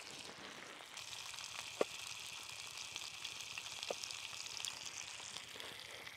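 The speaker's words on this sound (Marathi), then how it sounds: "इसे कहते हैं चिलापी फ्राय, फ्रेश चिलापी फ्राय" Fresh river-caught tilapia sizzling steadily as it fries in a pan outdoors, a continuous close hiss with a couple of faint clicks and no talking.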